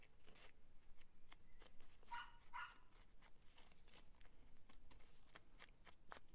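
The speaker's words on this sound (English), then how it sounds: "sorry if you can hear a dog barking." A neighbour's dog barks out in a garden, two or three faint, distant woofs in a quiet room over low steady background noise.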